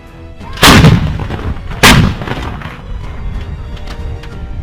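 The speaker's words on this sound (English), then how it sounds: "The footage published by the Ukrainian Armed Forces on Facebook clearly shows M777 howitzers of the Ukrainian 81st Airmobile Brigade pounding Russian equipment" Two heavy booms from M777 howitzers firing in war footage ring out about a second apart, each with a sharp blast and a rumbling tail, loud and fairly close with no speech.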